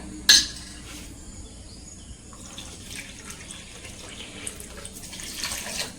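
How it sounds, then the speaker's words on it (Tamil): Water is poured from a cup into a vessel for making badusha sweets, a soft trickling splash that starts with a sharp clink and runs on quietly in a kitchen. "இந்த கப்லே வந்து பார்த்தீங்கன்னா தண்ணி ரெண்டு கப்பு வந்து சேர்த்துக்க போகிறேன்"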